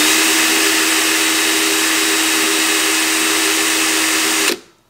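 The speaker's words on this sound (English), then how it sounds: "I'm just going to double check with the drill here" A power drill spinning a classic motorcycle speedometer mechanism whirs at a constant high speed for several seconds, then cuts off abruptly and spins down.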